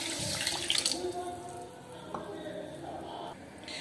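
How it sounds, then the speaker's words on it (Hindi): Water poured into a pot of sugar and cardamom for syrup, a brief splashing pour with clinks and stirring rattles close by, fading to softer trickling. "फिर हम इसमें पानी डालेंगे।"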